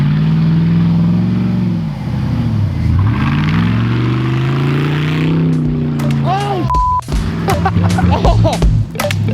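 A pickup truck drifting on snow, its loud engine droning and revving steadily throughout, with rising pitch sweeps near the end and people shouting excitedly over it.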